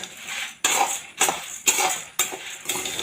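Urad dal and dried red chillies for dosa podi are stirred in a pan with a metal spoon: four loud, close scraping strokes in a steady rhythm, with no talking.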